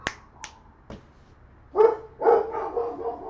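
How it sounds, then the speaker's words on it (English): Several sharp clicks come first, then a pet dog barks indoors, with a few loud, close yaps in quick, uneven succession and no talking. "Oh, my dog's barking."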